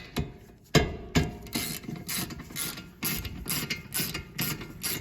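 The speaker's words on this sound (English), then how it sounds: "So that's how a ratchet works. It turns it one way, clicks back the other way." A ratchet wrench clicks as it loosens a part on a car brake lathe, bursts of quick metallic ratcheting in uneven strokes with short pauses between them, close and with no talk.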